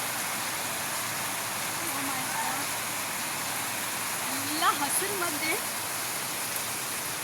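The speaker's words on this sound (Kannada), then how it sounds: "ಇವಾಗ ನೋಡಿ ಇಲ್ಲೇ ಫುಲ್ ಜೋರಾಗಿ ಮಳೆ ಬರ್ತಾ ಇದೆ." Heavy rain pours steadily over lush greenery at a Dandeli resort in Karnataka, making a dense, even roar that fills the whole clip. A person speaks briefly over the downpour.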